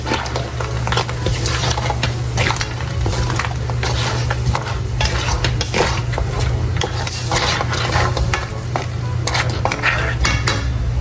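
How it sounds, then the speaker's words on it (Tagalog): Steady scraping and clinking of a utensil stirring pancit canton in a pan, with a low constant hum underneath and no talking. "Akin na po itong hahaluin."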